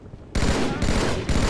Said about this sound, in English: But more the gunfire.